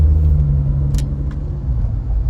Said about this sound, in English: That is a really loud car.